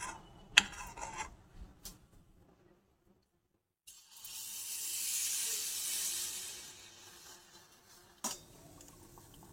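Malpua batter of semolina, flour, a little sugar and milk hits hot oil and sizzles in a swelling hiss that fades after a few seconds, preceded and followed by light clinks of utensils.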